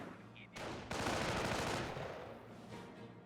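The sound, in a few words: sniper rifle shot in Company of Heroes video game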